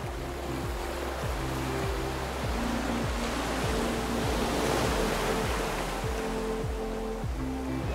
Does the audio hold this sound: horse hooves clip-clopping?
no